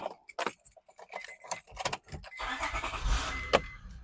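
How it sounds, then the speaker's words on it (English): Keys jangle close by, then the engine of a 2005 Honda Odyssey EX with new spark plugs cranks and fires into a smooth idle. Near the end a short, sharp knock is heard, and no one talks. "I'm going to start the engine, see how it sounds"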